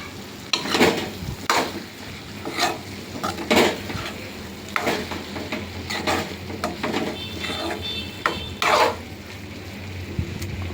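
Turmeric and chili powder get stirred into a hot pan, a spoon scraping and clinking against the metal in repeated strokes over a low sizzle, close and fairly loud with no talking.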